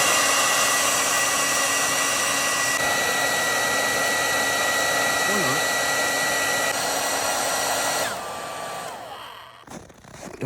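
A hair dryer runs with a loud, steady whine and airy roar, its pitch shifting slightly before it powers down and fades near the end.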